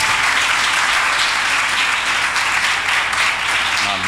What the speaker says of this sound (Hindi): आइए एक बार फिर यीशु के लिए तालियां बजाएं।